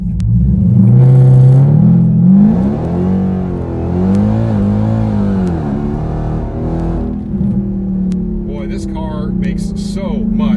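A car pulls away hard from a standstill in second gear and runs up to sixty, its engine loud and close, climbing in pitch through the gears in a long sustained roar with a voice talking over it.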